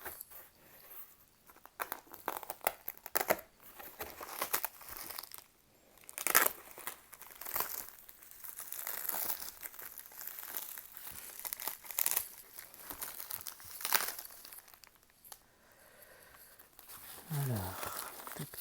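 A heavily taped cardboard package being torn open, with bursts of ripping tape and crinkling close by, separated by pauses and occasional talk.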